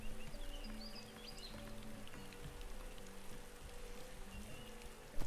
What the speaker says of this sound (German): Und es regnet natürlich,